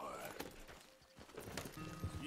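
Horse hooves clip-clopping on a path in the Red Dead Redemption 2 video game, a quick steady gait heard fairly faint and close, with light background noise.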